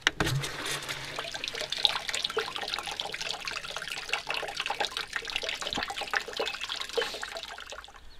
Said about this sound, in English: the rest I'll fill up with rainwater